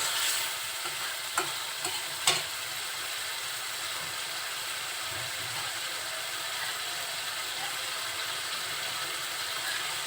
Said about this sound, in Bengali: আলু আর উচ্ছে মাছের সাথে খুব ভালোভাবে কষিয়ে নেব